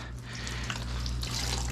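Wet studio towels being wrung out by hand over a floor, a short, soft patter and trickle of water dripping down, fairly faint and close.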